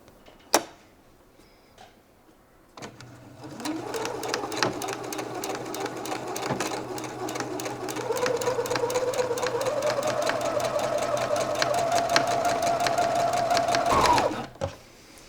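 A domestic sewing machine stitching a shirt hem seam at night, starting after a couple of clicks and running steadily with a rapid ticking needle rhythm that speeds up slightly, close and moderately loud, stopping near the end.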